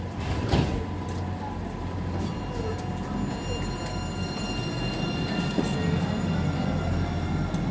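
An East Midlands Railway Class 180 diesel unit on a London St Pancras service runs through Nottingham station, a steady broadband rumble and whine holding for several seconds without letting up.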